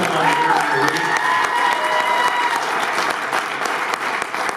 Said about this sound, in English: You should give him a round of applause